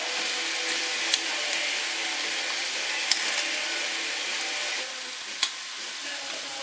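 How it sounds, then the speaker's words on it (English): Brandy flames off in a hot pan of lobster thermidor, giving a steady close sizzle and rush broken by a few sharp crackles, with no talking. "Then hopefully flame it off."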